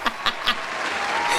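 A few scattered claps from people in a podcast studio, three distinct sharp claps early on before the sound settles into quieter room tone.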